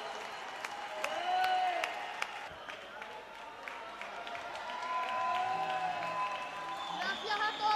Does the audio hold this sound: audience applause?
yes